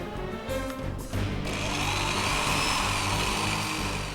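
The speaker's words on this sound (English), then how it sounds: "This drill bit is diamond tipped, one of the hardest materials known to man." A diamond-tipped drill bit grinds through marble in a loud, continuous whine that steadies after a brief start, close and unbroken to the end.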